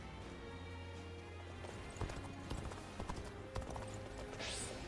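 Horse hooves clip-clopping at a run in the video game Dynasty Warriors Origins, a steady rhythmic beat with a few louder hoof hits, set over continuous game music and ambience.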